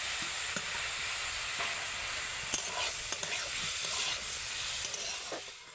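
Banana flower curry with fried potatoes being stirred in a hot pan, a continuous sizzle and hiss with scattered scraping knocks of the spoon against the pan, close and steady.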